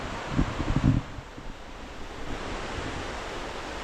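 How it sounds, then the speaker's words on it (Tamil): River water flowing steadily in Munnar, a broad continuous rushing wash heard close, with a few louder gusting bumps at the start before it settles into an even roar, no speech. "மூணாறில் உள்ள ஒரு ஆறில் தண்ணி வந்துக்கிட்டே இருக்குது"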